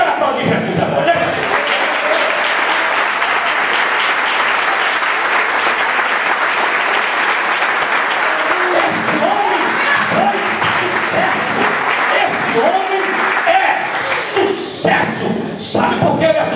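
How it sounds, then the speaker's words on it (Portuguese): A church congregation applauds loudly and steadily for Jesus, dense clapping from many hands that carries on for over fifteen seconds, with voices mixed in toward the end. "Eu quero aplaudir Jesus agora"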